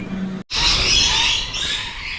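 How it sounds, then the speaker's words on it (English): Noisy birds squawk in Vietnam, a loud, dense chorus of harsh calls that bursts in after a brief silence and continues steadily. "Noisy birds."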